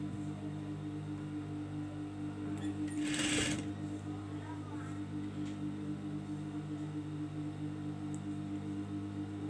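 A sewing machine stitches pajamas for nursing mothers, running as a steady continuous hum with a short louder burst partway through and no talk over it.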